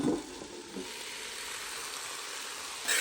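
Shredded cabbage foogath, a Konkani dish, sizzles steadily in a pan while it is stirred, with soft scraping bumps at the start and end of the stirring.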